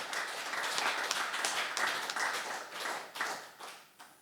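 A church congregation claps together in a steady run of quick, soft-to-moderate slaps heard from some distance, with no voices.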